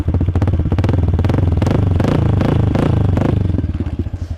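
A loud motorcycle engine with a Yoshimura exhaust idles and revs up close, giving a rapid, throaty, crackling pulse that swells and then settles; no voices.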